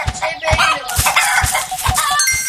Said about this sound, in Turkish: Tavuk bizim yumurtalarımızı düş düşürdü. Gaga bastı bize.